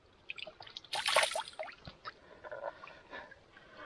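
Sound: washing head with river water by hand

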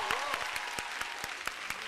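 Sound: audience applause for the band

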